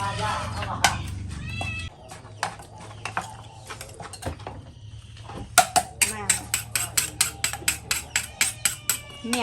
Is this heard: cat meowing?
yes